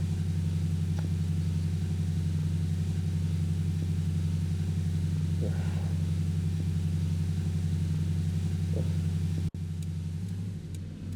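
Steady mid-pitched car engine idling loudly and continuously for about ten seconds in Euro Truck Simulator 2, with a brief click and a slight drop in level near the end.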